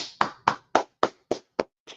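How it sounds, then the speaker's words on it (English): A congregation at a Sabbath service claps hands in unison, seven or eight sharp, evenly spaced claps in a steady rhythm lasting about two seconds, close and clear with no talking. "All right, clap it up."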